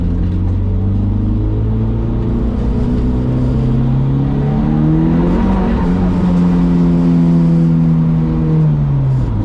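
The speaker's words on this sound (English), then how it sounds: "Let's give it a little bit of revs to see if it takes longer actually." A turbocharged car engine with no blow-off valve revs steadily, its pitch rising and falling in long sweeps over a constant low rumble, close and loud throughout.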